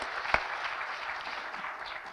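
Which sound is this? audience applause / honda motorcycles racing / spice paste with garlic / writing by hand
audience applause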